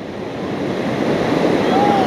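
Ocean waves wash onto the beach at Roads End in Lincoln City, a continuous roar of surf building in loudness, with wind buffeting the microphone.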